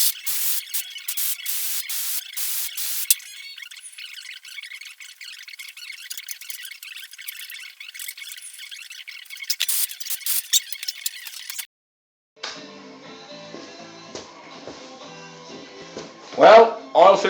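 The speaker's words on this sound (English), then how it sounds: "I'm going to do a air pressure clean" Compressed air blasts clean a filter on a 12-year-old John Deere LA135 lawn tractor during winter maintenance, with loud bursts of hiss in the first seconds and a steady lower rush after, then a brief gap before other handling noises.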